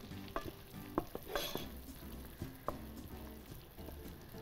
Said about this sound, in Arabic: هلا بدنا نقلي بالبصله